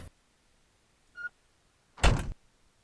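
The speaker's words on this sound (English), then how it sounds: "I think this opens the door." A tractor cab door opens in Farming Simulator 19, a faint short mechanical click followed by a louder, brief latch-and-swing thunk, with quiet pauses around them and no talking.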